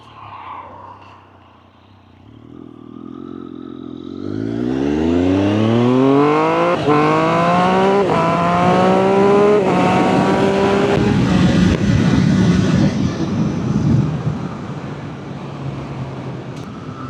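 A Triumph Street Triple 765RS motorcycle rides on the street after a valve retainer recall, its engine note climbing through rising revs from a quiet idle into a loud, sustained, close-by roar before easing off near the end.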